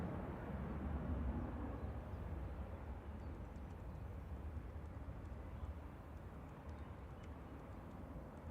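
A Ryanair airliner taking off at Manchester Airport, a faint, distant broadband jet roar that swells slightly early on and then holds as a steady low rumble.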